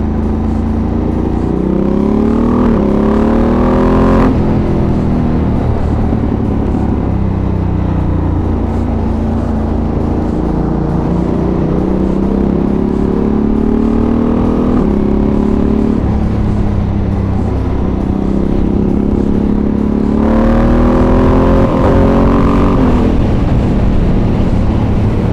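A Ducati Panigale V2S superbike with a Termignoni exhaust revs and pulls hard through the gears, with loud, steady engine roar and rising pitch sweeps mixed with heavy wind rush.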